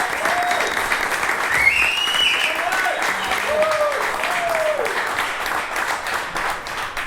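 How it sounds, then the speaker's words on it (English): A crowd applauds steadily and loudly throughout at a 1981 motocross team event, with a voice speaking over the clapping. "Let's give a round of applause."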